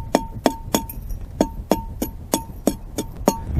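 A drill bit widens an off-center hole in a glass wine bottle, producing close, sharp rhythmic ticks about three per second over a steady grinding whir.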